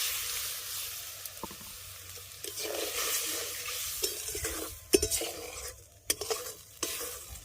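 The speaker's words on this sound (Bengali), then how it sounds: "নারকেলের যে দুধটা তৈরি করেছিলাম সেটাকে ছেঁকে বের করে নিয়েছি সেটা দিয়ে দিচ্ছি" Strained coconut milk poured into a pan for a fish malai curry and stirred, soft bubbling and sizzle with scraping spoon strokes and a few clinks against the pan, close and fairly quiet.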